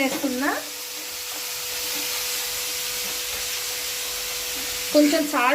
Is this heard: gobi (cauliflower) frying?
yes